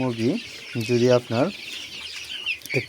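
Sonali chickens cluck in a poultry house holding nearly five hundred birds: several loud, close bursts with short pauses between them.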